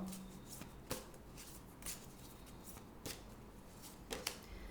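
A deck of oracle cards shuffled and handled, giving soft papery riffles and a few sharper slaps at a regular pace, quiet and close, with no talk.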